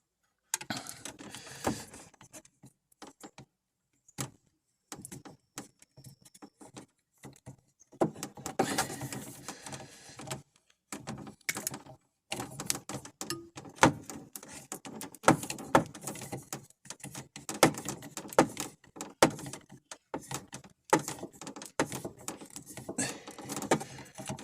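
Plastic elbow fitting being screwed on by hand during repair work on a pop-up camper, giving soft irregular clicks, scrapes and handling noises, close and moderately quiet, with gaps of near silence.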